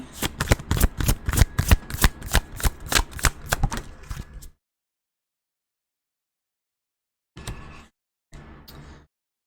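Tarot cards are shuffled in a rapid, close flurry of crisp riffling snaps for about four seconds, then after a silence come two brief softer bursts of card handling.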